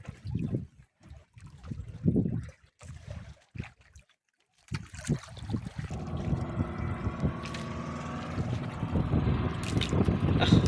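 Outdoor scene by the water: voices at first, then a steady engine drone from a motorized fishing boat with wind and splashing water building up.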